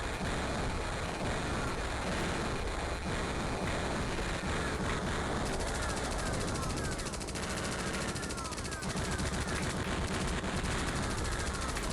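Rapid gunfire from an attack helicopter in the DOS game Thunderhawk 2: Firestorm, a continuous stream of machine-gun shots hammering without pause, loud and unbroken throughout.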